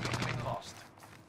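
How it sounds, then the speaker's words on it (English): Gunfire in an online video game duos match: a rapid burst of shots rattles through the first half second, then fades into quieter background game sound. "they're shooting at you or someone else?"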